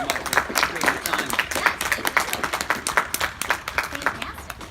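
Comic-Con Q&A audience applauding, dense steady clapping from a crowd that holds through the whole stretch, loud and close, with talk mixed in.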